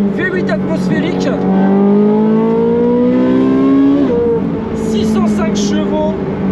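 A Ferrari 458 Speciale with a naturally aspirated V8 and IPE exhaust accelerates in a loud, rising howl that drops at a gear change and climbs again, with voices faintly underneath.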